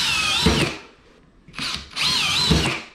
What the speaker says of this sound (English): let's get some screws up in there